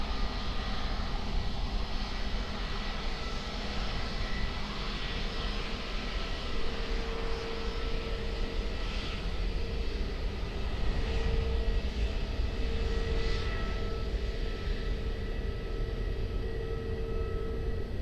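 Airplanes at Lisbon Airport produce a distant, continuous engine roar and hum that holds steady at moderate volume, with a faint whine rising and fading throughout.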